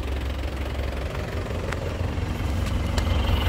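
A white 2014 GT car idles steadily at close range during an exhaust check, a continuous low engine rumble with faint ticking and no talking.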